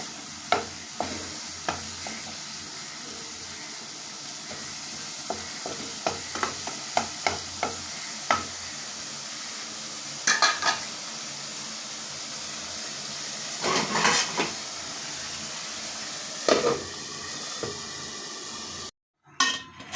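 Prawns frying in hot oil, a constant sizzling hiss close by with intermittent clicks and scrapes of a utensil turning them in the pan.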